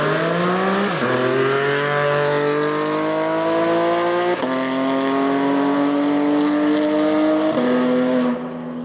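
A Porsche sports car with a PDK gearbox accelerates hard nearby, its engine note climbing steadily and snapping through three quick upshifts before fading at the end.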